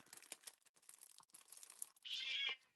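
A house cat meows near the end, a short bright call rising over quieter rustling and crinkling of paper craft materials in a room.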